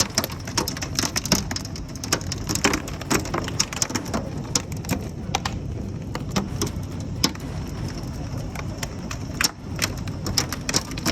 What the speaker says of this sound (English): Reno disappeared under a curtain of hail